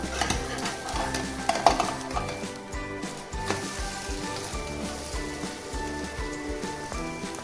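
Bread omelette of egg and bread being flipped in a frying pan, with a steady soft sizzle under scraping spatula strokes and light clinks of utensil against pan, close and moderately quiet.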